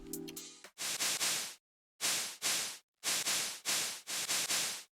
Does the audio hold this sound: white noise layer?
yes